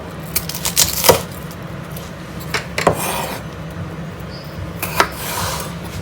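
A knife dicing washed, peeled vegetables into small cubes on a board, giving short clustered chops and taps, a few close sharp strikes in bursts separated by quieter pauses.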